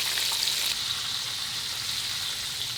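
Steady, close sizzling of green tomatoes frying in hot oil, a dense crackling hiss that holds constant with no voices.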